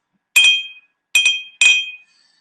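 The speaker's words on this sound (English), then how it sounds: "They also really make a nice clinking sound." Sturdy drinking glasses clink together three times in quick succession, each strike a bright, close ringing chime that decays briefly, with no voices present.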